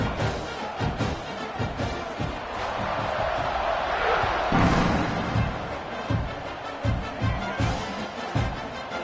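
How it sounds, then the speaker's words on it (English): A stadium crowd at a Clemson vs OU college football game roars and swells around a kickoff, building to a loud peak midway. A commentator's voice breaks in intermittently over the noise. "this crowd now ready to get behind them"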